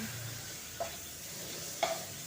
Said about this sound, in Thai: ผัดหมูแล้วก็กระเทียมแล้วก็หัวหอมนะทุกคนผัด ให้เนื้อจนเนื้อหมูสุกเลยนะทุกคน